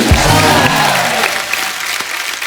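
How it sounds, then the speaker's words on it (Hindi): Studio audience on an Indian comedy show breaking into loud, dense applause and cheering that carries steadily throughout, with a brief voice under the clapping at the start. "जोरदार तालियां हो जाए।"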